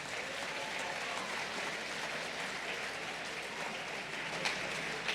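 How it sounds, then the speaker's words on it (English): Steady audience applause fills a conference hall at a faith and justice gathering, a dense continuous patter of many hands clapping at even loudness for the whole stretch, with no voices over it. "Give yourselves a round of applause"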